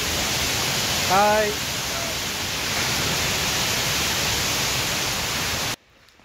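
A rain-swollen waterfall at Vattavada roars as a loud, unbroken wash of noise for most of the stretch. A brief voice greeting and short talk sit on top, then the sound cuts off sharply near the end.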